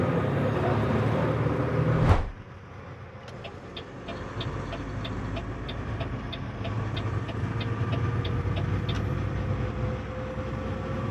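An American semi truck cruises along a highway with a steady low engine drone and road roar from inside the cab, a faint regular ticking like a turn signal in the middle stretch.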